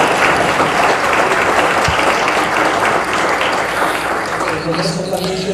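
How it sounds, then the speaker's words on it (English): Audience applause for a conference panel at a session on cities in the Americas, a steady dense wash of clapping from a seated crowd filling the whole stretch at full loudness. "I'd like to ask for a round of applause for the panel members."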